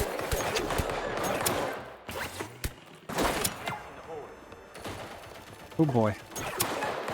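Hip-fired weapon in Deceive Inc shooting small, weak Nerf-style pellets: scattered, snappy shots and short bursts amid game effects, with someone talking briefly over them.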